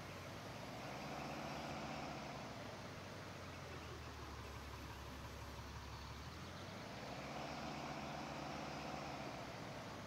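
A Ram 3500 single cab truck pushing a snowplow in the Farming Simulator 19 game gives a steady, faint engine drone with a soft scraping hiss, constant and unbroken.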